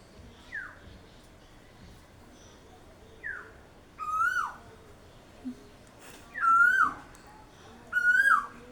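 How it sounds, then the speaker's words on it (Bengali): An Asian koel calls from a tree in repeated clear, rising whistled notes, several in a row, the later ones louder and closer, with faint background noise between calls. "এত সুন্দর কোকিলের মিষ্টি ডাক।"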